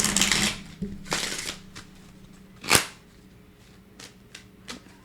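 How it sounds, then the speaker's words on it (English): Tarot oracle cards being shuffled by hand, a few crisp riffling bursts followed by soft scattered taps and slides, close and fairly quiet, with no talking. "One more shuffle."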